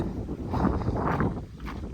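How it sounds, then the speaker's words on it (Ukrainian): Steady wind buffets the microphone outdoors at a construction site where a warehouse foundation is being poured, a continuous low rumbling gust with no talk. "У нас сьогодні вітер трохи."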